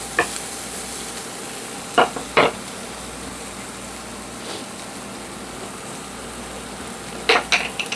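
Atlantic salmon searing in a pan on the highest heat gives a steady, soft sizzling hiss, broken by a few sharp clicks and taps of a utensil against the pan.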